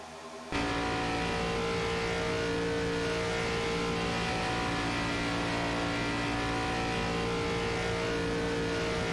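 Race cars at a night Grand National event roar into action after a brief quiet start, a loud continuous wall of revving engines that holds steady and close for the rest of the moment.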